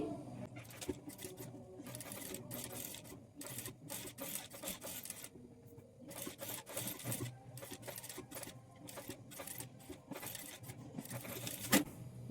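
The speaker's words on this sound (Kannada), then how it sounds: "ಇಲ್ಲಿ ನಾನು ಸ್ಟಿಚ್ ಮಾಡ್ಕೊಳ್ತೀನಿ" A sewing machine stitches a blouse back neck in bursts of rapid mechanical clatter, stopping and starting in short runs, close and moderately loud, with brief pauses in between.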